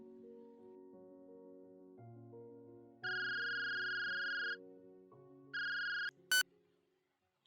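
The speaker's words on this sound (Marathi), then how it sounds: "तितक्या तिच्या हातातला फोन वाजला" A mobile phone ringtone plays: a soft melodic tune rises into louder bright tonal bursts, repeating twice before a brief sharp chirp and silence.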